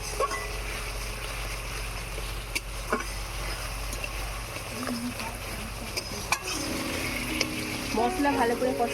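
A spice paste of chili powder and coriander powder, loosened with a little water, sizzles and fries in a pan for okra jhal. Steady frying and scraping stir sounds continue throughout, with a low hum underneath.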